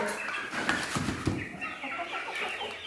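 Chickens and roosters around 56 days old cluck and chatter softly nearby, with faint scattered calls over a continuous low background hiss in cold weather.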